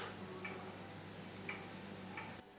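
Faint mechanical ticking of a large wall clock in a watch shop, a few soft, evenly spaced ticks heard alone against a quiet room hum.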